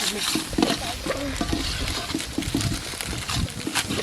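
Rice stir-fried in a pan: a continuous clattering scrape and sizzle with rhythmic stirring strokes, loud and close, with a little talk in the background.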